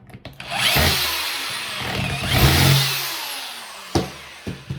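A power drill whirs in two long bursts, its pitch rising and falling as it drives in a screw, then a few sharp knocks follow.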